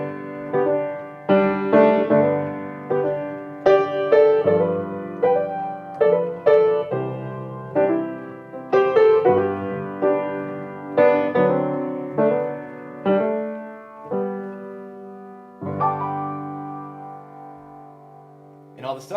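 Piano playing with slip-note grace notes combined with a harmony note just above the melody, giving a country-pop lilt; moderately loud, close, phrased notes ringing out over about twenty seconds with no talk.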